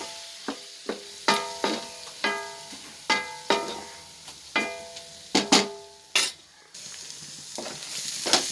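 Mutton roast masala with tomato sautés in a pan as a spatula knocks and scrapes rhythmically, each bright metallic tap ringing over a low sizzle, repeated steadily at close range without talk.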